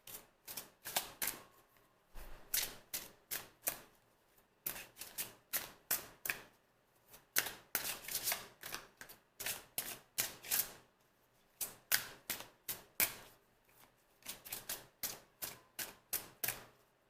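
Tarot cards are shuffled in repeated quick bursts of crisp riffling and flicking, close and fairly quiet, with short pauses between bursts and no talking.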